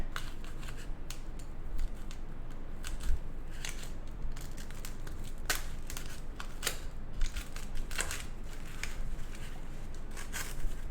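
Scissors snip through a soft foam pool noodle to open a hole for a candle, giving quiet, close crunchy cuts and crinkles that come in irregular bursts over several seconds.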